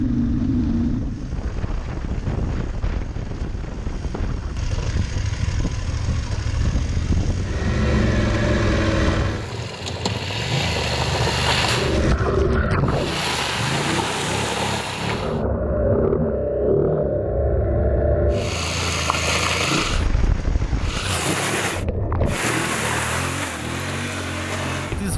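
A 2019 BMW F850GS Adventure motorcycle ridden in Enduro Pro mode produces a continuous engine drone under heavy rushing wind buffeting, with the roar surging and dipping as throttle changes, sustained and loud throughout.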